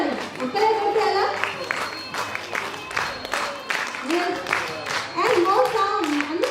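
An audience at a National Youth Day event claps together in uneven rapid bursts nearby, with voices talking and calling out over the clapping.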